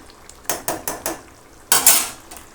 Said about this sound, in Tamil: இது எல்லாத்தையும் நல்லா அப்படியே மிக்ஸ் பண்ணி விட்டுக்குங்க